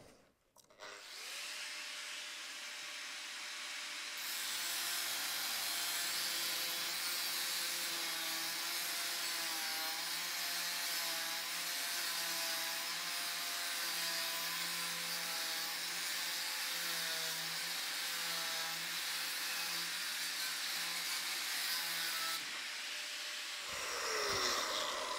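A Norton Quantum3 cutting disc slices through material in one quick, straight cut, giving a steady, loud grinding whine that holds for about twenty seconds before winding down, with no talk.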